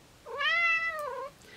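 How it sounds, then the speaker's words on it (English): A house cat gives one clear, drawn-out meow up close in a quiet room. "Kitty is saying hello, but she can't stay."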